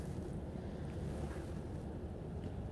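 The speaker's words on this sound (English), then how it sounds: "It's a bit windy outside, and I've got the wind muff here with me." Outdoor wind blows steadily into a microphone fitted with a wind muff, giving a low, continuous rumbling buffet with no talking.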